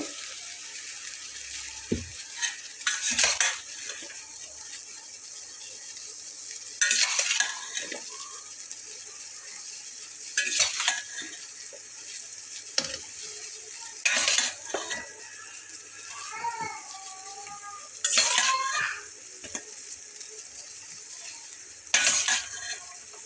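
Okra stirred into a pot of boiling water for a vegetarian Bengali dish: a spoon scrapes and clacks against the pot in a handful of separate bursts over a low, steady bubbling background.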